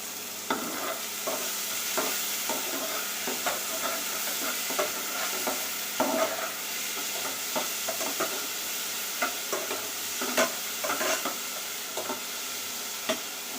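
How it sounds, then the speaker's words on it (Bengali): Chopped onions with a bay leaf fry in a pan, a continuous close sizzle broken by repeated clinks and scrapes of stirring, with no voices. "আমার পেঁয়াজটা ভাজা হয়ে গেছে।"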